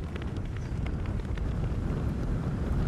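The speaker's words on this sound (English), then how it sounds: "you can see by that flag the wind getting up as the day goes on" Wind gusting across an open golf course on Madeira, a dense low rumble of microphone buffeting that holds steady and strengthens slightly toward the end, with no speech.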